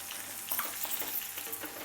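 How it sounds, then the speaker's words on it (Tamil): Green chillies, dried red chillies and ginger sauté in a pan of oil for guava chutney, a soft steady sizzle with small crackles and light stirring, fairly faint and without speech. "இது ஒரு டூ மினிட்ஸ் வதங்கட்டும் சீக்கிரம் வதங்கிடும்"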